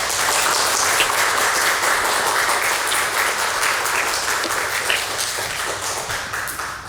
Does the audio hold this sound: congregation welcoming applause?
yes